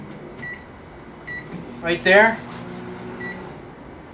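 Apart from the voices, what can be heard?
microwave oven running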